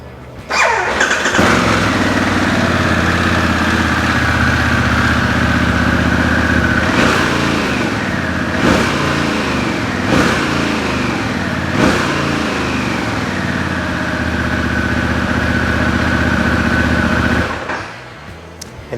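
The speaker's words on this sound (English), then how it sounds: "So let's start up the engine and listen to it." A Harley-Davidson Pan America Special motorcycle engine cranks and fires up, then settles into a loud, steady idle with a few short revs before cutting off near the end.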